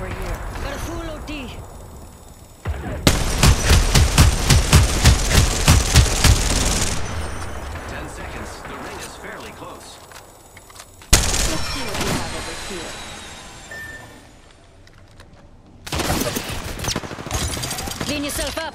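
Gunfire in the battle royale game Apex Legends: a loud rapid automatic burst of several seconds, then sparser single shots, a later burst and mechanical clicks, with speech heard in between.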